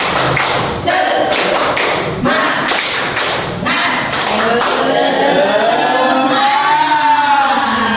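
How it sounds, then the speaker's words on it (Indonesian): A group in a school or teacher-training session performs rhythmic 'tepuk semangat' spirit clapping, loud and close, in patterned bursts of claps with voices over them. Sustained shouting or chanting follows toward the end. "sekali lagi tepuk semangat"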